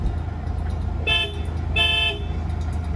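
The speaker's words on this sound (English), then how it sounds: "That's the horn. Sounds like a Volkswagen." A vintage bus horn gives two short honks about half a second apart over a low idling engine at a bus festival.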